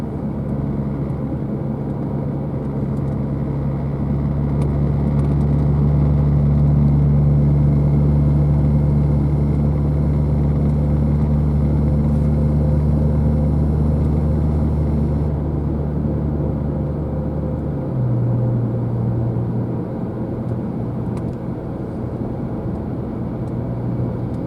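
A BMW 335i drives along a road through curves, its engine giving a steady, loud low rumble with road noise throughout, the pitch dropping slightly near the end as it eases off.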